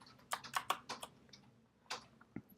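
Quiet computer keyboard typing, a short burst of several quick keystrokes followed by a pause and a couple more isolated taps, close and soft with no talking.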